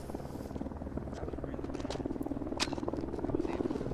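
A news helicopter hovers overhead at the scene of an SUV crash, its steady rotor chop and engine buzz droning continuously, fairly loud and close throughout.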